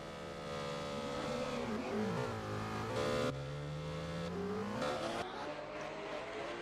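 Race cars pull away from the start at Sturup Raceway, engines revving and climbing through gears with rising and falling pitch sweeps, loud and continuous with faint tire noise throughout.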